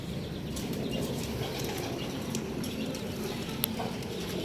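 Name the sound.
pigeon flapping wings and flying upward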